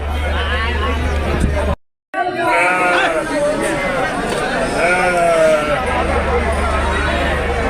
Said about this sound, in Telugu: మంచి మంచి గొర్రెలు వస్తుంటాయి